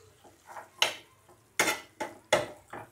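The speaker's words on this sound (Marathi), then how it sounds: "मस्तपैकी आपण त्याला स्टीअर करून घेऊया" Tomato red chili masala sauce for pasta is stirred in a pan, making a run of scraping, sizzling strokes, each a short rasp, repeating every half second or so, close and moderately loud.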